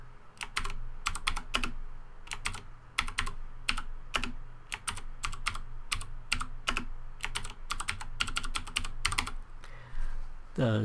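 Rapid keystrokes clatter on a computer keyboard while a Minecraft world seed is entered, irregular bursts of clicks running steadily over a low background hum with no talking.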